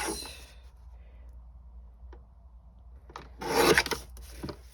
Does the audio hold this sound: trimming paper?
yes